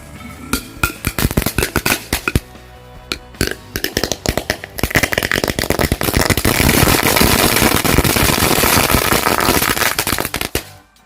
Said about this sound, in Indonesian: Yang pertama kita nyalakan mercon telur dino di dalam botol